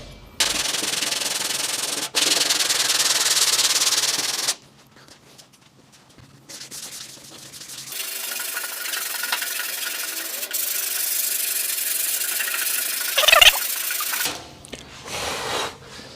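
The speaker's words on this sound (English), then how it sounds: "Now we've just converted our sweep or our profile gauge into a sanding tool for that fender." Bursts of abrasive sanding rasp loudly and steadily as a profile gauge used as a sanding tool works a BMW E30 wheel-arch fender, pausing between strokes, with a quieter stretch of scraping in the middle.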